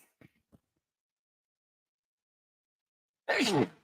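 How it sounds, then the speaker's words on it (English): A few soft breathy sounds, then silence, followed by a single sharp, loud sneeze at the end. "hold on, I'm going to sneeze"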